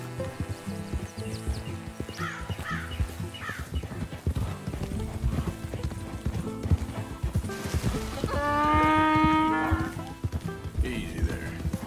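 Donkey walking in the Red Dead Redemption 2 video game, with repeated hoof clip-clops under other game sounds and a loud whinny-like bray in the middle, fairly close.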